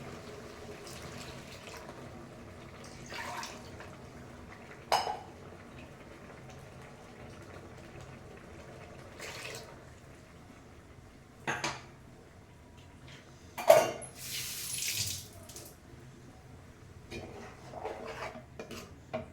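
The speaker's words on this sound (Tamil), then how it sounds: "இப்போ கழுவி கொஞ்சம் தண்ணி ஊற்றிக்கலாம்" A pot is washed at a kitchen sink and water is poured into it while a potato curry is being cooked. Quiet, scattered splashes and short pours mix with light clinks of metal cookware at a moderate distance.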